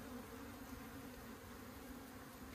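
Honey bees at an opened hive, a faint continuous buzzing drone with no voices over it.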